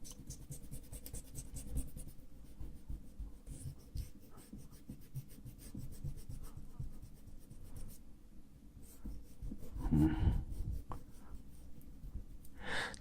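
An eraser rubs out pencil sketch lines on paper taped down to a surface, making steady, close scratchy strokes that go on without a break, with soft breathing heard now and then.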